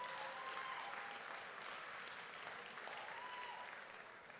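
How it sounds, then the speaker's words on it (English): An audience at a university fundraising campaign kickoff celebration gives a round of applause, a steady wash of clapping that holds for several seconds and tapers slightly toward the end. "That's worthy of a round of applause."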